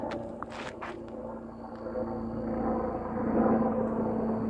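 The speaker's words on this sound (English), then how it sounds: "That's one of the fire helicopters up there." Fire helicopters flying over a smoky forest fire area, their rotor and engine noise a broad, distant rumble that slowly swells louder, with a few footsteps and faint handling noises near the start.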